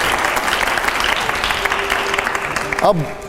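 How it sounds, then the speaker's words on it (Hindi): A studio audience at a political talk show breaks into loud applause that gradually thins, with a voice speaking briefly near the end. "संविधान, तालियां जोरदार।"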